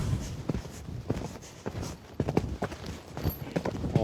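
Horse hooves clip-clopping during show jumping training, a steady rhythm of close, distinct hoof strikes on the ground, one every half second or so, with no talking over them.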